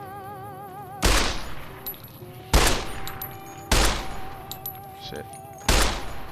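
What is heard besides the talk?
gunshots in the video game Fallout New Vegas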